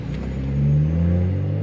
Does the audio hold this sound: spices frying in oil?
no